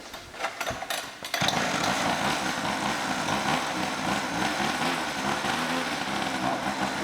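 A Blata quad bike, drift spec, has its small high-pitched engine revved hard. After a quiet moment with faint handling noise, it snaps into a loud, continuous buzzing roar held close for several seconds.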